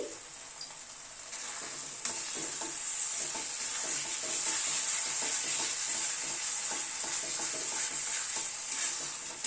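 A spoon steadily stirs cashew paste sizzling and frying in a wok for a chhana kofta curry with new potatoes and peas, a continuous close scraping hiss with no talking.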